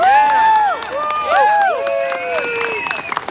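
A rally crowd cheers the president with loud, overlapping whoops and shouts, followed by scattered clapping as the cheering thins out toward the end.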